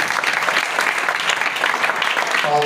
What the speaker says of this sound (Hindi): आए खुदा के लिए जोरदार तालियां बजाएं